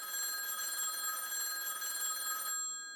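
An old-fashioned telephone bell rings continuously in a vintage radio drama, a bright, sustained metallic trill that cuts off abruptly near the end, heard alone without talk.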